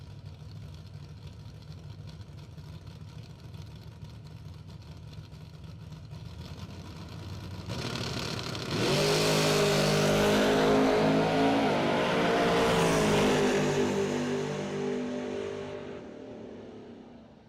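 A pickup truck launches on a bracket drag racing run: a low idle gives way to a sudden, loud engine roar that climbs through the gears, holds strong for several seconds, then fades as it pulls away.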